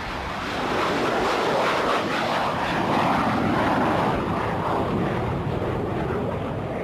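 A steady, broad roar of a super jumbo jet airliner, loud and continuous with a rushing wind-like texture, no voices.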